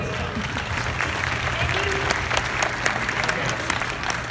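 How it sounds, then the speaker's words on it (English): Steady applause from an audience at a fan convention panel in Phoenix fills the scene, dense clapping running throughout with voices mixed in beneath it. "Round of applause to you guys."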